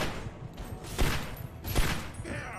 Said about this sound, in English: This Chinese pistol better do something.